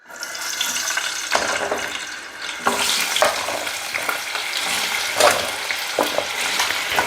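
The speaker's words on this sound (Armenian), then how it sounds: "թող տապակվի" Food fries in a pan in a home kitchen, a steady loud sizzle with occasional stirring scrapes and bursts of crackle running throughout, with no voices.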